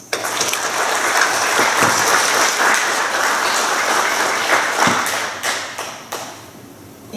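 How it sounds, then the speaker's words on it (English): Loud, sustained audience applause in an auditorium at a high school honor society induction ceremony, with dense clapping close by that tapers off toward the end. "Please join me in thanking them with a round of applause"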